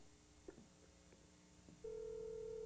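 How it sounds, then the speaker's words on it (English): Faint clicks and short tones of a computer modem dialing a telephone line, then a steady loud tone begins and holds to the end. "the computer is dialing the number, the telephone line's ringing"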